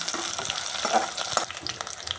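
Steady sizzling of onions and halved green chillies frying in a pan for coconut milk ghee rice, with scraping stir sounds throughout, close and fairly loud, no voices.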